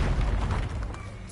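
Expulso explosion spell cast in Hogwarts Legacy, a deep booming blast with a heavy low thud that fades over a second or so, loud and close with no talk over it.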